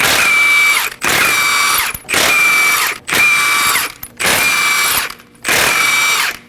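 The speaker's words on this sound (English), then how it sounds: "Using a 21mm socket, we're going to go ahead and remove the lug nuts." A ratcheting socket wrench with a 21mm socket spins lug nuts off the front wheel of a 2017-2024 Nissan Armada, six loud, evenly spaced bursts of rapid clicking, each about a second long with short gaps between.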